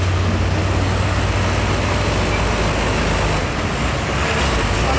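A container truck trailer rolls past on an Indonesian road, a steady broad roar of engine and tires with a low drone, loud and continuous throughout.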